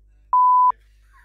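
A single steady censor beep, about half a second long, blanks out a word in casual French conversation. It stands alone and loud against near silence.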